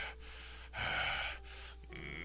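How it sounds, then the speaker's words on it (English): A video game character panting heavily after collapsing to his knees, a short rush of breath sounds with one louder, longer gasp in the middle, close and unaccompanied by talk. "After an unbelievable amount of time, Daddy crumples to his knees, panting heavily."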